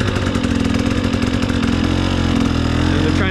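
A dirt bike engine runs steadily up close on a muddy trail, a loud continuous buzzing drone with a rough, even rhythm and no talk.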